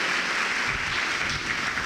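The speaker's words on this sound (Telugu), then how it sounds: "గట్టిగా చప్పట్లు కొట్టండి" A church congregation claps loudly in praise during a worship service, producing a continuous, even wash of many hands clapping at once, with no break across the short stretch.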